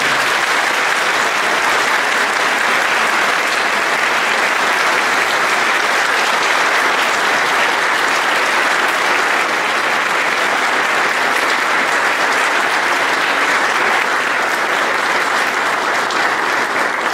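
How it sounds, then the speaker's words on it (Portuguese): A large festival crowd claps steadily and loudly for the whole stretch, a dense, even wash of applause with no voices standing out. "Eu peço uma salva de palmas."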